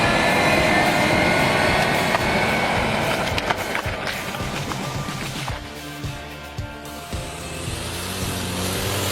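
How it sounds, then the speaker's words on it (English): A DAF 180D forestry mulcher head mounted on a Terex PT 110 tracked carrier grinds through stunted trees in a forest, giving a loud continuous roar of engine and shredding wood with crackling impacts and no speech. "See how the DAF 180D log crusher on Terex PT 110 from Dennis Simaf Inc. works to remove stunted trees in the forest"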